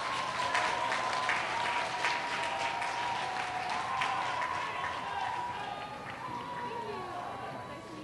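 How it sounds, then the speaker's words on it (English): An audience applauds a high school student at a ceremony. The clapping is thick and sustained, with voices mixed in, and it gradually thins and softens toward the end. "Let's give her a big round of applause."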